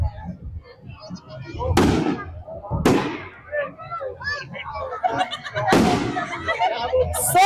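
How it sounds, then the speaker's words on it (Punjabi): Firecrackers burst at a crowded Dussehra Ravan Dahan fair in Kharar, with three loud, sharp bangs spread through the clip over steady crowd noise and talking. "ਸੋ ਦੇਖੋ ਤਸਵੀਰਾਂ ਬੰਬ ਧਮਾਕਿਆਂ ਦੀ ਧੂਮ ਵਿੱਚ"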